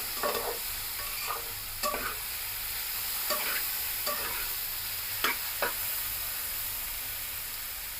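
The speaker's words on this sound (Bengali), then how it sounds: "সুন্দর করে ভেজে নিব ভালো করে কিন্তু ভেজে নিতে হবে" Potatoes fry in a pan for Bengali-style pahari aloo dum, a constant sizzling hiss under repeated scraping stirs of a spatula, close and clear, with no speech.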